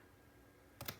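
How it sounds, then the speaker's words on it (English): Scissors snip the corners off paper pieces for a 10 x 10 Magic Forest album cover, giving two or three quick, crisp close cuts after a moment of near silence. "I want to come in here and I want to snip"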